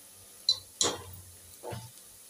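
Chopped onion frying lightly in a pan while it is stirred for a chicken curry, with faint sizzling broken by a few brief scraping stirs. No talk.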